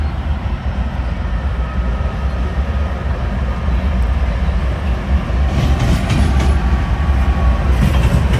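Train locomotives, including 9000 series rebuilds, roll through a railyard in Roseville with a loud continuous rumble and rattle of wheels and cars, steady and close, swelling slightly toward the end.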